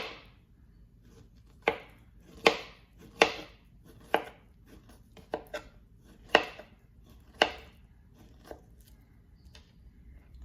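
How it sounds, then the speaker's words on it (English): Knife slicing plantains into rounds on a cutting board, a series of about ten crisp, close chopping taps at an uneven, unhurried rhythm with quiet pauses between cuts. "For this, you can cut your plantains in any style, but the style that I'm using today is circles"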